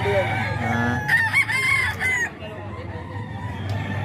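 Sweater-bloodline gamefowl rooster crows with a long, strained call rising mid-clip, close by, over steady low background rumble and faint outdoor noise.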